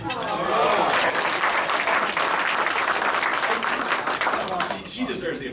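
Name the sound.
applause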